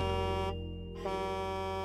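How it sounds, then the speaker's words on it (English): Big truck horn blaring in a steady, buzzy, sustained tone, with a brief dip in the middle before resuming, heard alone and fairly faint. "It's the sound of a big truck blowing its horn."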